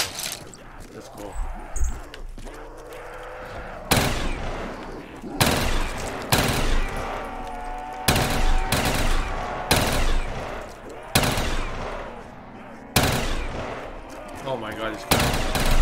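Loud, sharp bursts of gunfire from the first-person shooter Black Ops 3 repeat at fairly regular intervals, with short silences between bursts and a brief spoken exclamation near the start.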